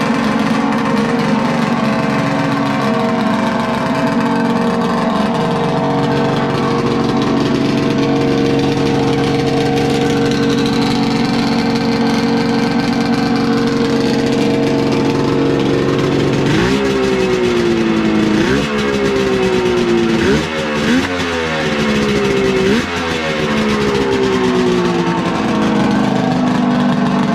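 An asphalt racing snowmobile with a freshly mounted gauge fires up at Bandimere Speedway, settling into a loud, steady engine drone before several sharp revs rise and fall in quick succession near the end, with no talk over it.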